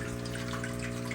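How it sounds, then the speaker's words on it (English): Water running steadily from an opened valve into a fish tank, carrying dirty fish water from a plastic tote; a constant close trickle and splash over a low steady hum, with no talk. "open up that valve"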